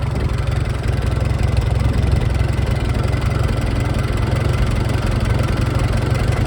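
A Farmall tractor engine idles during a timing adjustment, a loud, steady, close chugging with a fast even pulse that holds smooth throughout.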